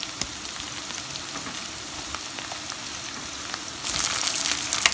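Potatoes sizzling and frying in a pan of hot oil for a vegetarian biryani, a steady close crackle that grows louder and brighter near the end as they are stirred, with no voices.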